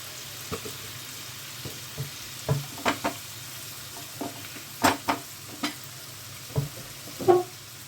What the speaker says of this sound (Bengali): এবার এখন একটু চাপা দিয়ে দিই, এটা ভাজা হোক।